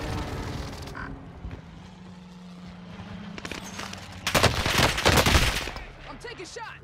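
Gunfire rings out in the Warzone Caldera video game, scattered shots early on, then a dense loud burst of rapid fire in the second half, with game noise and voices around it.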